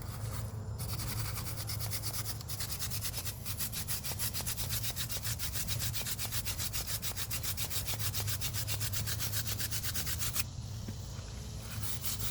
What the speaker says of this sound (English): Clean the new hose bib off